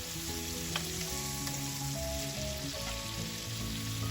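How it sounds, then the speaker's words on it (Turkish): Onions fry in oil with a little sugar in a pan for a zucchini dish, giving a continuous, even sizzle at close range with faint background music. "Şöyle soğanı güzelce kavuralım"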